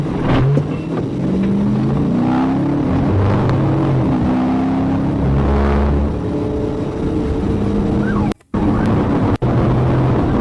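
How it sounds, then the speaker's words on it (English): A Ford Explorer floors it during a police chase, its engine revving hard and rising in pitch through repeated gear climbs, loud and close, with other traffic and a siren-like wail in the mix before a brief dropout. "the Explorer suddenly floored it"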